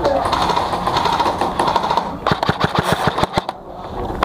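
Airsoft guns fire in rapid clattering bursts during an outdoor milsim game, the sharp shots coming close together in the second half after a stretch of noisy background with players calling out.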